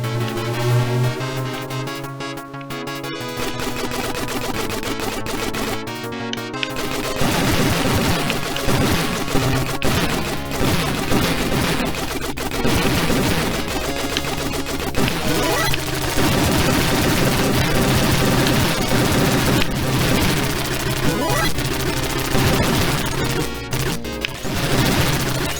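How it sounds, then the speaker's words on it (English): A 1987 shoot-'em-up arcade-style video game with dense bursts of rapid gunfire and crashing explosions over driving electronic game music, loud and continuous, with no talking. "I love the exploding sounds. Great. Firing sounds good too."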